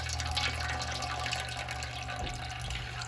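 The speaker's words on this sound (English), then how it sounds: "grain bag out without trying to burn ourselves and sparge rinse it" Hot water pours and trickles steadily through a grain bag during a home-brew sparge rinse for a Munich helles beer, a continuous close splashing wash with no voices.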